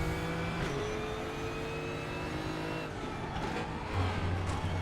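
Nissan GTR GT3 race car engine in RaceRoom at Watkins Glen, droning steadily up close with a brief pitch drop near the end as it downshifts.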